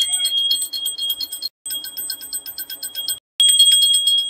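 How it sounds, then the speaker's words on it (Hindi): Hand bell rung during a Rudrabhishek bhog offering to Shiva at home, a bright continuous metallic ringing in three bursts separated by brief pauses, close and clear with no talk. "भोग लगाते समय आप घंटी जरूर बजाइएगा"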